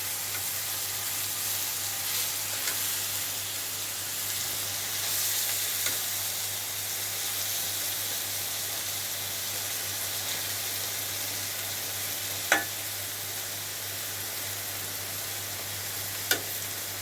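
Dried fish (shutki) sizzles steadily in a hot pan for shutki bhorta, a constant frying hiss with a few sharp clicks of stirring near the end, no voices.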